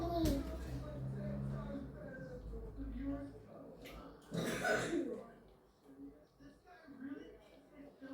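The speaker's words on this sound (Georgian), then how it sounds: "რო ახველე" A person gives a single short cough or throat-clear partway through, set among quiet indoor talk.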